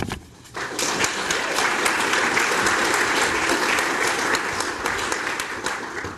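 An audience at a fall opening conference applauding as a speaker is welcomed to the stage, dense sustained clapping from a full room that starts suddenly and holds steady.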